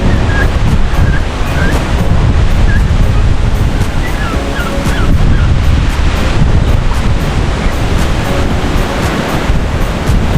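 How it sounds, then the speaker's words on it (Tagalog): Strong typhoon wind roars continuously, loud and close, buffeting the microphone with a dense, unbroken rush. "lakas ng hangin"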